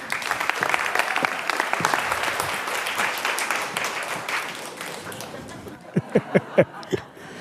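An audience at a closing event gives a sustained round of applause as speakers are called on stage; the clapping fades and ends with a few loud, isolated claps close by.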